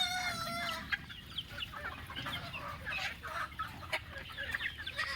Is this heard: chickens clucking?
yes